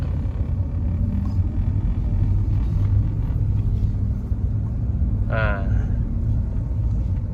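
An automatic Honda City sedan is driven, with a steady low rumble of engine and road noise close by throughout and a brief higher tone near the end.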